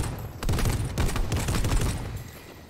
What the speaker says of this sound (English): we're getting shot at by somebody